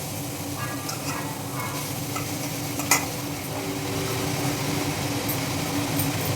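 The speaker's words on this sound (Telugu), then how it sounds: "ఇప్పుడు ఈ పాలకూర కూడా వేసేద్దామండి." Fresh spinach leaves go into a pan and are stirred, a low steady sizzle with soft scraping and one sharp utensil clink, close by with no talk.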